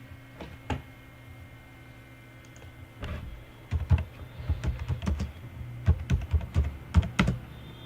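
Computer keyboard keys clatter in quick, uneven bursts at close range, with a few isolated taps at first and then steady typing over a faint room hum.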